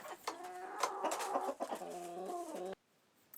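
Hens cluck in a busy overlapping flock, close and steady, then the sound cuts off abruptly near the end leaving quiet.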